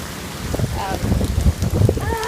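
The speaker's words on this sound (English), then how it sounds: "it's gone from just kind of raining and a little bit of wind to a lot of wind and a lot of rain." Heavy rain and gusting wind of Hurricane Matthew pound outdoors, a dense, uneven patter with irregular louder bursts, close by.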